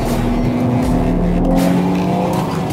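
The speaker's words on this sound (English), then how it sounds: "Now we're driving out of the corner with slight oversteer." A 2020 BMW M3 sedan powers out of a racetrack corner with slight oversteer, its engine roaring loud and steady from inside the car.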